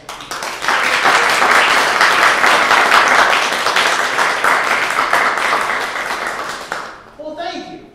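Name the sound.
audience applause welcoming author Nicole Cushing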